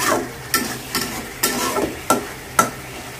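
Shing fish curry with cumin being sautéed in a pan, a soft background sizzle broken by six or so evenly spaced stirring scrapes, close and fairly quiet.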